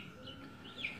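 A young chick afflicted with a tilted-head condition like torticollis peeps softly with short, faint chirps over a low, noisy background.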